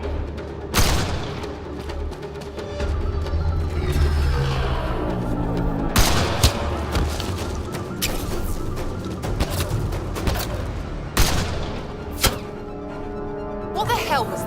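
Gunfire in the video game Mass Effect: Andromeda as a sniper is fired upon, sharp shots and bursts with booming impacts scattered over the whole stretch, loud and close, with a voice speaking at times between them.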